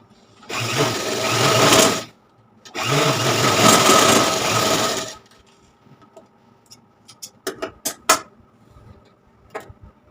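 An electric sewing machine stitching fabric for children's full-length pants runs in two fast, loud, steady bursts of about two seconds each, followed by quieter clicks and taps of handling the machine and cloth.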